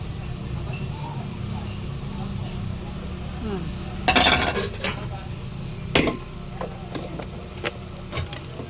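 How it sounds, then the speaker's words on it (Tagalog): Sliced bitter gourd (ampalaya) drops into a hot pan, a sharp burst of sizzle rising over a steady low frying hiss, followed by a few lighter clinks and crackles. "Ayan ako magluto guys ng ampalaya. Lagay na natin."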